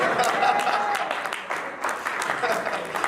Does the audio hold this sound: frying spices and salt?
no